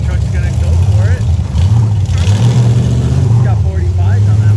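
Full-size rock crawler truck on 45-inch tires working at an off-road park, its engine droning and revving steadily throughout, loud and close, with people talking excitedly over it.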